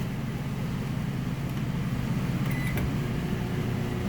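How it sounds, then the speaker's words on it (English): A microwave oven heating a cup of water while powered by a Champion 3100 dual fuel inverter generator gives a steady low hum and drone, with a few faint clicks over the continuous noise. "Microwave's on. Got a cup of water in there."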